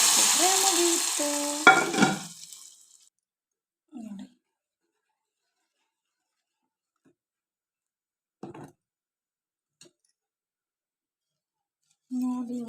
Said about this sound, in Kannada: ಅರ್ಧ ಸ್ಪೂನ್ ಸಾಸಿವೆ, ಆಮೇಲೆ ಬೆಳ್ಳುಳ್ಳಿ ಮತ್ತು ಕರಿಬೇವು. ಒಗ್ಗರಣೆ ಕಾದಿದೆ